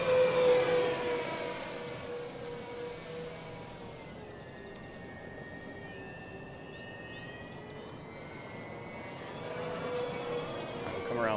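An XFly-Model Twin Otter scale model airplane flies under power with a steady, whining twin electric-motor drone that rises and falls in pitch as it climbs and turns, heard from a moderate distance outdoors.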